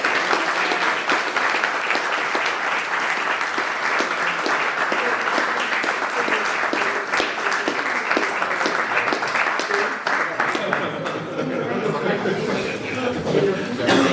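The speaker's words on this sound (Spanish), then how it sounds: "Un aplauso." An audience at a Spanish-language public debate on Trump breaks into dense, steady applause that continues for many seconds at full strength before thinning toward the end.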